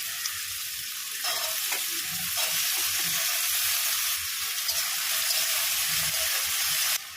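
Potato pieces frying in hot oil with onion in a pan, a steady close sizzle and hiss throughout with a few soft stirring scrapes.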